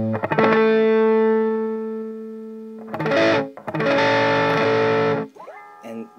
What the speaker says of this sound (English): what's a good cheater way to get rid of buzz? Add distortion.